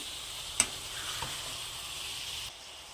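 Small fish frying in a pan and gently turned with a ladle, a faint steady sizzle with a brief metallic tap near the start, close but quiet, no voices.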